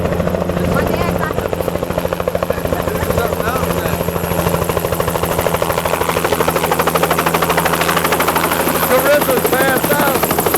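Loud helicopter carrying passengers in flight, a steady rotor thump and engine drone running the whole time, with people's voices occasionally audible inside the cabin over the noise.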